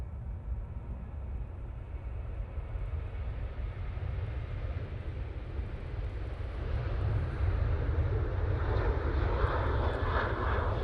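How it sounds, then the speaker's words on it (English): A Ryanair Boeing 737-800 airliner takes off, a steady, loud engine roar alone that swells gradually and grows louder toward the end. "And that Ryanair 737-800 is off to Tenerife."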